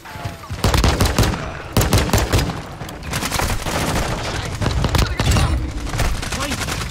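Rapid automatic gunfire in Call of Duty: Modern Warfare II multiplayer, loud bursts and sustained volleys of shots with booming impacts running through the whole stretch, a player's voice heard faintly beneath.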